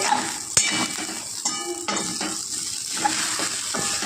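Sabudana (sago) roasting in a pan sizzles softly while a spoon stirs and scrapes it, with occasional clinks of metal against the pan, close and alone.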